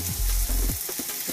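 Bacon and onions frying in a pan for a Balkan crock pot dish, a steady close sizzle with low thumps and scraping stirs as the pan is worked, no talking.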